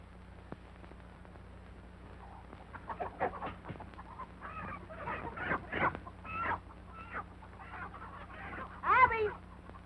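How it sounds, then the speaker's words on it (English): Rooster clucking in a 1934 Western farmyard scene, a series of short clucks and squawks rising over several seconds with one louder burst near the end, heard alongside a low steady hum and faint voices. "Help me find that rooster."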